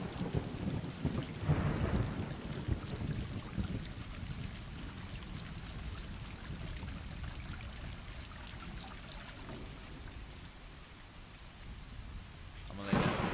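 A thunderstorm in the video game Stray: steady rain pours over a low rolling thunder rumble near the start, with another sharp crack near the end, all fairly quiet and without any talk.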